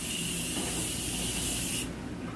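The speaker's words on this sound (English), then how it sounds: "I'm trying a setting spray for the first time." A steady, close hiss of makeup setting spray misting continuously for about two seconds, then cutting off abruptly.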